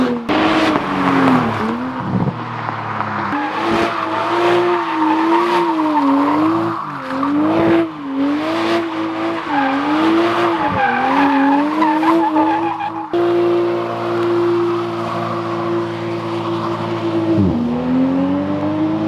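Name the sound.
2020 Toyota Supra with dropped exhaust driving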